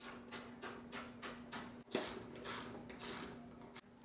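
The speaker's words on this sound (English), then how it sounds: "to get the mirrors off, it is a 5mm Allen" A 5mm Allen wrench loosening the mirror bolts on a 2019 Yamaha R3 motorcycle gives a steady rhythmic series of close ratcheting, clicking turns, about two per second, with a brief thump midway.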